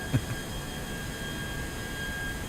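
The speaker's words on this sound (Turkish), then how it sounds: "İki şaflı, yüksek bypasslı bir turbofan motor dostlar." Steady broadband roar of an IAE V2533 twin-spool high-bypass turbofan on a ToLiss A321ceo in X-Plane, a continuous even hum with a faint whine and a brief low thump near the start, no talk.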